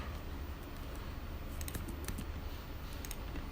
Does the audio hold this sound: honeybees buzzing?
no